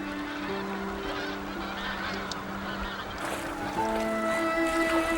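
Migratory geese and other waterbirds honk and call continuously at the Mangyeong River in winter, a dense overlapping chorus of many birds at moderate distance, swelling slightly toward the end with no speech.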